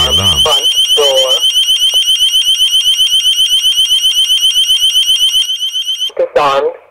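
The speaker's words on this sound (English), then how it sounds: "After a preset delay has elapsed, the system triggers the alarm." An ABUS Privest wireless alarm system sounds a loud, steady electronic siren with rapid pulsing for several seconds, then cuts off, followed by a brief spoken voice prompt.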